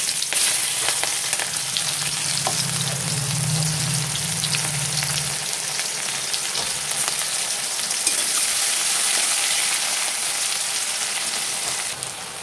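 Onions fry in hot oil with bay leaf and whole cumin, a close, dense sizzle with faint stirring that stays steady throughout and carries no talk.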